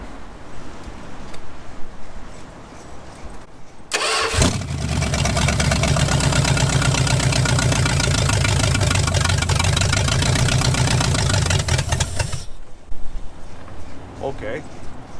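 A V8 engine swapped into a 1946 Dodge Deluxe, run off the fuel pump, cranks and catches, then idles loudly and steadily with a rumbling throb for about eight seconds before shutting off, followed by quiet shop sounds.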